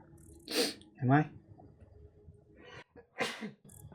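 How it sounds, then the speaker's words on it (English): A person sneezes twice in quick succession, a sharp close burst followed by a second, then a brief pause and another sneeze-like exhalation, with quiet room hum underneath and no other talk. "gonna sneeze."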